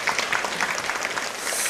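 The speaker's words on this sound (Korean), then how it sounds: "우리 박수로 인사하겠습니다" Church congregation in a Sunday morning worship service clapping together to greet a missionary leaving for Sri Lanka, steady dense applause filling the room without pause.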